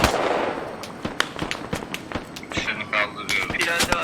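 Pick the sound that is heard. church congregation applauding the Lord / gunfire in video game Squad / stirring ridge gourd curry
gunfire in video game Squad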